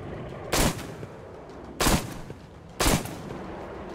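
Three loud gunshots fired at the bear in Metro Exodus, evenly spaced about a second apart, each a sharp broadband crack with a short decaying tail over a low game ambience.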